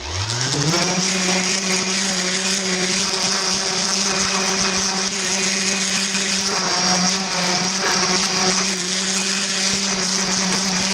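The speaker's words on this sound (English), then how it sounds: "we got our 220 on the random orbital sander, and we're going to go ahead and finish it up" A random orbital sander with 220 grit paper smoothing a wooden mallet, a loud steady motor whine that spins up at the start and holds constant, with slight grinding variations as the pad moves over the wood.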